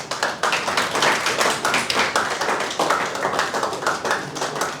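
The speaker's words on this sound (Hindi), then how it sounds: "इस ब्यूटी एंड मैजिक के लिए खुद के लिए ताली लगाओ" Audience in a lecture hall applauding together, a dense, steady burst of hand claps that runs loud and continuous throughout with no talking over it.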